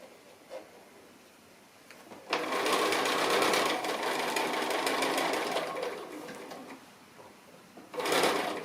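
Sewing machine running a long continuous burst while stitching a seam on a squarish basket made from 2½-inch fabric strips, then a second short burst near the end; loud and close, alone without talk.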